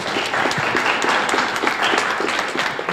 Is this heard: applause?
yes